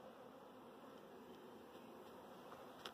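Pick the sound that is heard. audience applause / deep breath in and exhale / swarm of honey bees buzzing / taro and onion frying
swarm of honey bees buzzing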